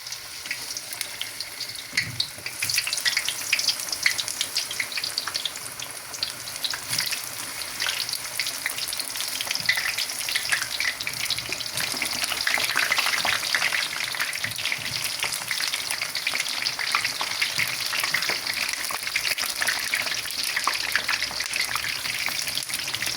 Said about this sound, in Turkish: Şimdi yağ koydum ısındı. Şimdi kızartalım.